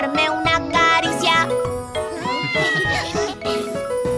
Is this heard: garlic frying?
no